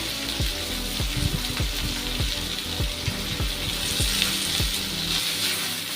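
Garlic, fresh ginger and fresh coconut fry in a pan, giving a steady hiss of sizzling oil broken by repeated scraping, knocking strokes of a spatula.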